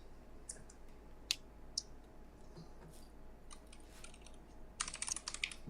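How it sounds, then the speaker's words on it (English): Computer keyboard typing: quiet, irregular bursts of key clicks at close range over low room hiss, with a denser flurry of keystrokes at the end. "Do you hear my keyboard?"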